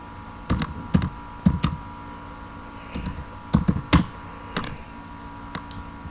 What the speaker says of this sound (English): then you have to type get authorization.